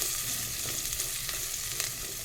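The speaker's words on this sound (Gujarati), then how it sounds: "એને પણ આપણે થોડી સાતળી લઈશું" Finely chopped onions sautéing in a pan for palak paneer, a soft continuous crackling sizzle with faint stirring scrapes, heard alone at low volume.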